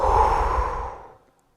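A single long exhale after a top-up breath in a guided breathing exercise, a close, airy sigh that starts full and fades away to silence over about a second.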